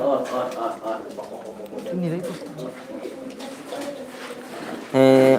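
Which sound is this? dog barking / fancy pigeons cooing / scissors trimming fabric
fancy pigeons cooing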